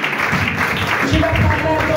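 A church congregation applauding and cheering for Jesus, a steady wash of clapping and voices filling the room, loud and continuous, with a voice speaking over it.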